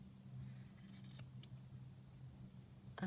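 Scissors trimming fabric scraps for a Christmas craft, heard as a few quick, close snips with light rubbing of cloth over a low steady hum.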